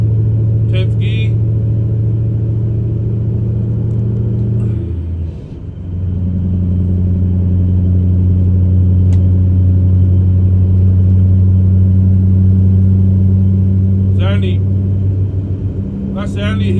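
A truck engine drones low and steady in 10th gear while climbing a hill, with a brief dip as a gear change is made before the deep rumble resumes, and someone talks over it throughout.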